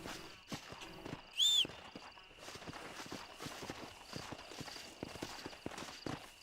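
A horse walks in the video game Red Dead Redemption, its hooves clip-clopping in a steady, soft rhythm over quiet ambience, with a brief high tonal chirp near the start.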